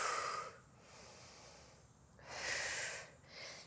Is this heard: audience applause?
no